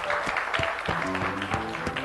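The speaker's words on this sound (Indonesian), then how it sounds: "Tepuk tangan dulu." Audience clapping at a campursari music show held at the Surakarta city police headquarters, a steady patter of hands over a faint musical tone, lasting only a couple of seconds.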